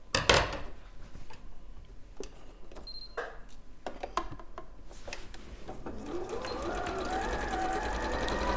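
A domestic sewing machine stitching a spring sheep craft project, starting with a few short bursts and clicks, then running steadily as a continuous whirring hum near the end; a pigeon coos faintly in the background.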